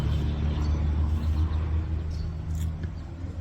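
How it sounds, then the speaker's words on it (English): Road traffic passing in a historic village: a loud, steady low rumble of engines going by close, with a brief hiss near the end and no voices. "Wait for the traffic."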